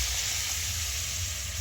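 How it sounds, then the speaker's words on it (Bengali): Water hits a hot pan of fish-head and cabbage curry, giving a loud, steady sizzle and hiss up close that continues throughout without any voices. "এবার এতে জল দিয়ে দেবো।"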